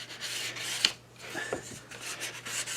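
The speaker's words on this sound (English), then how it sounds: "I'm sanding." A cherry wood tray with a shellac finish is sanded by hand, giving a soft, steady rubbing rasp close by with a few faint knocks. The sound is quiet and continuous throughout.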